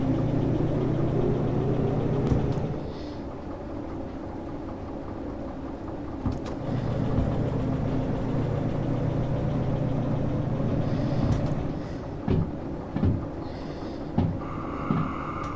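A DE2 shunting diesel locomotive in the train game Derail Valley rumbles and idles at a steady low pitch, its engine note dipping and rising as it starts to move, with a few clanks and clicks over the top.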